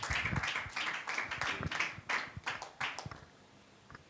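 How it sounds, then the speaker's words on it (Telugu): Children at a Sunday school Bible quiz clap after a correct answer, a quick scattered burst of nearby hand claps lasting about three seconds before trailing off into near quiet. "Very good, claps."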